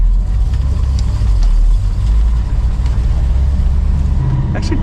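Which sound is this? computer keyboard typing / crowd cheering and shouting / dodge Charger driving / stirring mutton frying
dodge Charger driving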